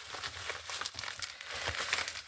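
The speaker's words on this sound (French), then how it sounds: "Je vais essayer d'enlever le scotch." Close crinkling of a plastic bag as tape is peeled off it, with irregular tearing pulls, quiet and uneven, no voices.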